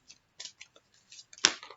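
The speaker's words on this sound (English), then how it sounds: "I'm going to do a quick shuffle" A deck of cards is quickly shuffled during a tarot-style reading, producing faint, close, scattered soft clicks and one sharper riffle snap near the end.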